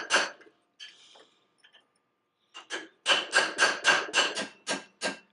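A hammer drives a chisel against an old seal inside a Kverneland hydraulic cylinder: a few scattered taps, then a quick run of about nine sharp, ringing metallic blows close by.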